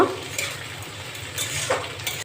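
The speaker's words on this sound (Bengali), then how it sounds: "সবজিগুলোকে আমি ঘি দিয়ে ভেজে নিচ্ছি।" Vegetables such as capsicum and peas frying in ghee for fried rice, a soft continuous sizzle with faint stirring scrapes of a utensil in the pan, fairly quiet and close.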